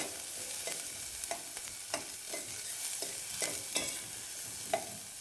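One chopped onion and four or five small pieces of garlic fry lightly in a pan for drumstick soup. The hiss is steady and close, with a spoon or spatula scraping and clicking at irregular moments while stirring.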